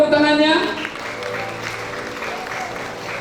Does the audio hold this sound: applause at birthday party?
yes